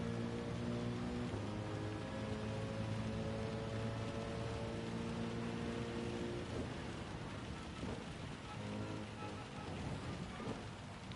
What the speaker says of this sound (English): God, I hate the rain.